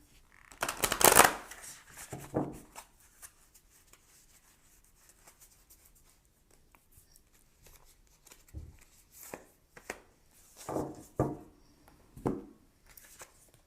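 A deck of oracle cards is shuffled, with a loud riffling burst near the start followed by quieter intermittent shuffles and taps of the cards, close up in an otherwise quiet room.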